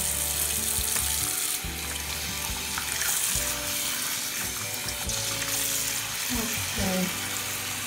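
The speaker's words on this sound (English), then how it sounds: "Now it is time to rinse off the shampoo." Steady running water splashes and pours close up, rinsing shampoo from a Teddy guinea pig's fur, with a continuous rushing hiss; faint voice sounds come and go underneath.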